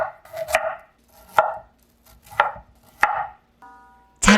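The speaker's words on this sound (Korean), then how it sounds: "브로콜리는 작은 꽃송이로 자르세요." A knife chops broccoli and onion on a cutting board: about five sharp, separate chops spaced unevenly, close and clear, with no voices.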